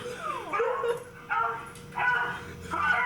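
A dog yips and whimpers in a series of short, high, whiny bursts, close by, sounding almost like a voice.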